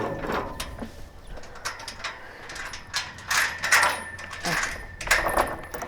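Metal chain clinks and rattles as it is unhooked and a gate is lifted in a freestall dairy barn, with irregular clanks and scraping at close range and faint voices now and then.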